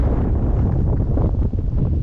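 Strong wind buffets the microphone with a low, rumbling roar that gusts unevenly for the whole stretch.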